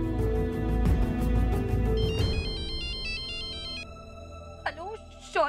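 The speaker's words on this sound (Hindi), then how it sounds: "हेलो शौर्य, मैं तुम्हें कब से फोन कर रही हूँ, कहाँ हो तुम?" Melodic electronic ringtone of a telephone playing a repeating beeping tune for a couple of seconds over a tense soap-drama music bed, followed by a voice speaking.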